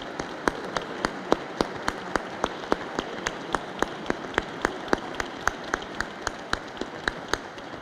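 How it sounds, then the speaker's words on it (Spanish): Applause from the audience at a book presentation, heard as a sparse, regular pattern of distinct claps set against a soft background hiss. "pues sí pido un aplauso muy merecido para Luis Ignacio Sáenz."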